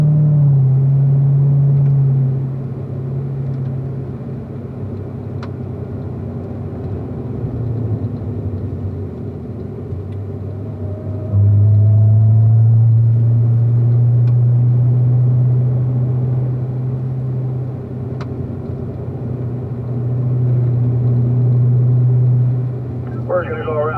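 A Corvette cruising a cool-down lap on a race track, a steady low engine drone heard from inside the car that rises and settles as it shifts, with a person talking over it throughout.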